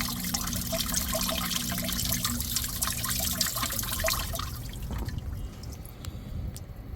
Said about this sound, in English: It is flowing, the water is flowing much better.